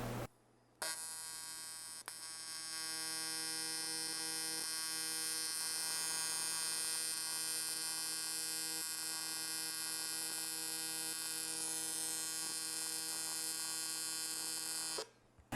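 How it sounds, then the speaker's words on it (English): A Vulcan arc welder runs a bead at 80 amps, a steady buzzing hum held evenly for about fourteen seconds, starting and stopping sharply, with no talk over it. "We'll put a weld right next to that one and see what happens."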